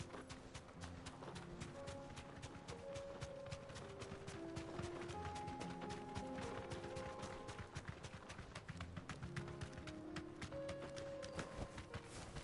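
A bird mount running in Final Fantasy 16 gives a steady, rapid patter of footfalls throughout, mixed with sustained in-game music.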